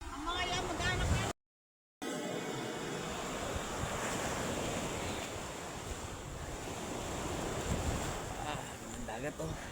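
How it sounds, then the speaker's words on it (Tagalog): Sea waves wash onto the shore in a steady, rushing roar mixed with wind buffeting the microphone, briefly cut off near the start, with voices talking over it. "Ang dagat oh."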